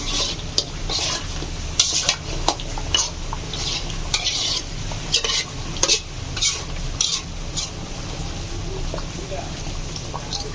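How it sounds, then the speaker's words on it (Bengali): Bottle gourd curry sautéing in a home kitchen pan, with a steady frying hiss and repeated scraping clinks of a spatula stirring, while people talk over it. "এটা দেখতে এটা কষানো কষানো এটা কষানো হচ্ছে"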